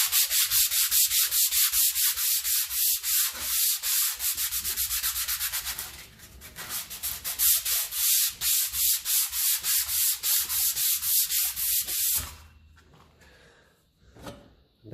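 Hand sanding of a rusty tractor exhaust from a 1954 Ferguson 20 TEF diesel with 120 grit sandpaper, fast rhythmic back-and-forth rasping strokes, close and loud, pausing briefly midway, then fading to a few light scrapes.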